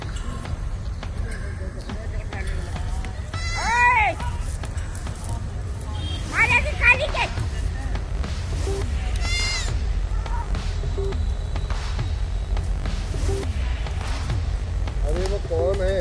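Goats bleating in a rural Indian village: several wavering bleats rise every few seconds over constant low rumble and background noise, with people talking throughout.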